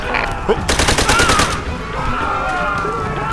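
Rapid automatic gunfire from Call of Duty: World at War erupts in a dense, loud burst of repeated shots, followed by scattered battle noise and faint game voices.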